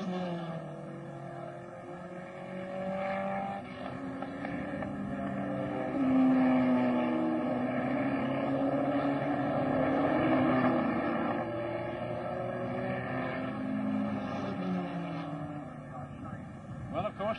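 A 1963 racing car approaches the causeway during the Australian Grand Prix. Its engine drones and rises faintly in the distance under steady commentary.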